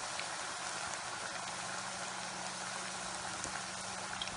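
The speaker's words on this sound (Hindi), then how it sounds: "गोल्डन कलर होने तक फ्राई करेंगे।" Raw papaya koftas fry in hot oil over a medium-to-low flame, giving a steady, even sizzle and bubbling that holds at one level throughout, close up and with no voices.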